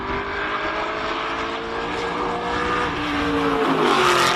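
A BMW Z4 M race car at a hill climb event, the Speed Classic King of the Mountain in Cape Town, its engine droning steadily at high revs and rising in pitch toward the end, heard alone without talk.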